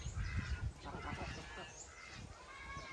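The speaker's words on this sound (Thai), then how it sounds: "เป็ดอีเหลี่ยม" A Muscovy duck calls outdoors with a low, breathy honking amid steady background hiss and murmuring voices.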